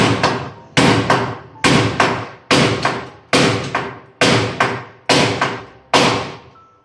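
Hammering rivets during house construction: eight evenly spaced, sharp metallic strikes ring out loud and close, each decaying quickly before the next blow lands at a steady rhythm.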